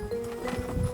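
Horses on a ranch, a brief close burst of hoof clops and snorting movement, with no speech over it.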